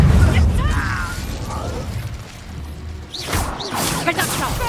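An Incendio fire spell cast in Hogwarts Legacy bursts out with whooshing, crackling blasts and mechanical clatter layered over dense combat sounds, a sharper flare arriving past the midpoint.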